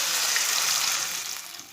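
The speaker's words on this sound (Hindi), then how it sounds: "1 कप पानी डाल लेंगे।" A cup of water poured into a hot pan of lightly browned onions for noodles, a loud hissing gush that fades over under two seconds.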